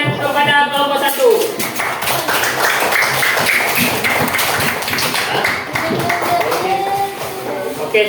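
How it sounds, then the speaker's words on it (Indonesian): A class of students claps for a group that has just presented a large model house built from used ice cream sticks. The clapping is loud and close, with sharp individual claps and voices underneath. "Oke, beri tepuk tangan kepada kelompok 1."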